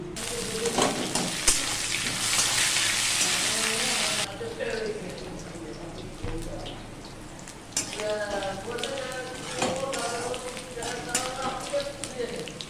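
Chopped ginger and garlic hit hot oil in a pan with a loud burst of sizzling that settles into a quieter, crackling fry with occasional stirring, while a voice talks over it.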